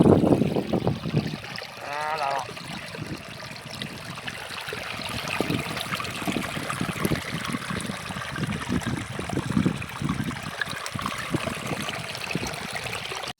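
Water gushes steadily from a small homemade contraption built by a boy, a continuous close splashing and trickling stream.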